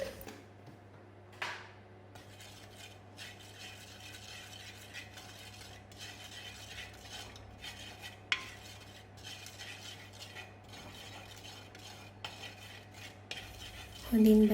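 Chili powder and spices stirred in a dry pan while making a mushroom curry, a steady scraping and clinking of a spoon against metal running throughout at moderate level, with a few sharper knocks and no talking.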